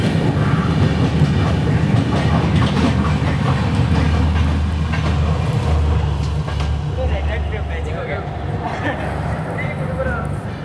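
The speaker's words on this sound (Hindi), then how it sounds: "भरूच जंक्शन के प्लेटफॉर्म नंबर 3 से कोई तो ट्रेन डिपार्ट हो रही है" A train pulling out of platform 3 at Bharuch Junction, with a loud, close rumble and a low droning hum that ease off gradually toward the end. There is clicking and background noise, and a voice talks over it.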